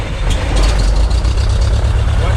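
A Cessna C177B light aircraft engine cranks and catches, settling into a steady, loud, low rumble close by, with a voice talking over it.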